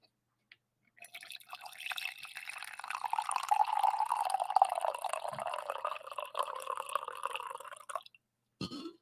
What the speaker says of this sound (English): I think I owe you guys a coffee pour too